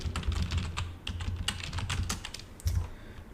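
Fingers type on a computer keyboard in a quick, uneven run of close clicks, with brief pauses and one louder burst of keystrokes near the end.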